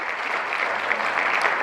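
An audience on a show gives a brief burst of steady, dense applause to welcome a guest, with close, continuous clapping from start to end.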